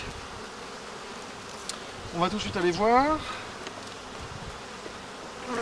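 Honeybees buzz around a beehive, a steady hum in the background while someone speaks briefly in French over it.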